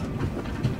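Brief, close rumble of a train running on rails in the Voidtrain video game, with a heavy low clatter and wheel clicks and no voices.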